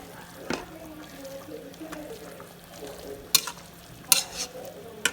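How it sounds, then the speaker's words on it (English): Spaghetti noodles get stirred in a Ninja Foodi Deluxe pot, with soft scraping and wet sloshing against a low background hum and a couple of sharper clinks near the end. "I'm just going to give it a quick stir."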